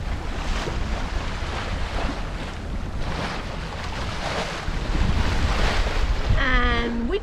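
Steady wind and sea noise while sailing downwind from Stornoway to Tarbert in the Outer Hebrides, a broad continuous rush of surf and gusts buffeting the microphone, loud and close throughout.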